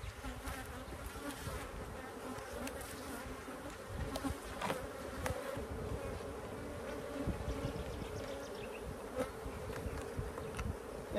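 Honeybees and drones swarm and buzz steadily around an open hive frame, a dense, continuous droning close by with small swells in intensity and no talking.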